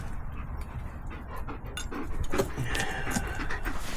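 A dog pants near the microphone, quick breathy puffs in a steady rhythm with a small whimper, over a low background rumble in a garage setting where a KX250 dirt bike's chain is being adjusted.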